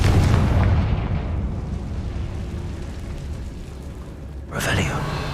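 A Confringo blasting spell detonates in the game Hogwarts Legacy, a loud booming burst that rumbles and fades, followed by a second sharp crack near the end, with a voice speaking over the noise.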